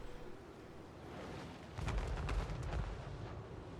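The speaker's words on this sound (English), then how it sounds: "Still trying to shoot Little Grom, but it's not going to win." Cannon artillery booms in a Total War Warhammer 3 battle, rising midway into a cluster of heavy, muffled blasts over a low battlefield rumble.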